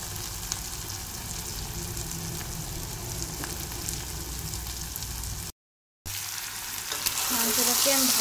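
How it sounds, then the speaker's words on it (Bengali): Country chicken meat fries in an oily spice masala with a dense, steady sizzle and occasional stirring, pausing for a moment before the crackle swells louder. "মাংসটাকে আমি ভালো করে কষে নেব কিছুক্ষণ"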